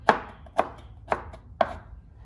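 A knife chops bamboo shoots into strips on a board for a stir fry, four evenly spaced crisp cuts about half a second apart, close and clear with no talking.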